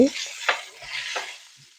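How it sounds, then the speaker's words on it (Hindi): Garlic and green chilies frying in a pan, a soft sizzle broken by two or three brief scraping stirs, close and fading toward the end, no talking. "तो लहसुन मेरा फ्राई हो चुका है। तो अब मैं डालूंगी इसके अंदर 3 हरी मिर्चें"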